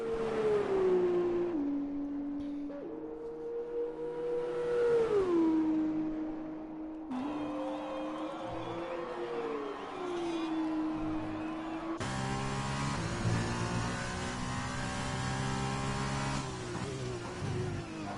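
Race car engines in a racing video game at the Britain round rise and fall in pitch through gear changes and corners, steady and fairly loud, with commentators talking over them.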